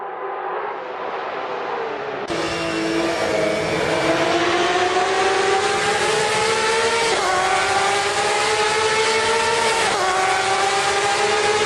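Porsche Cup race cars at Road America accelerate hard into turn one, a loud sustained roar of several engines with rising revs and gear shifts, dense and close throughout.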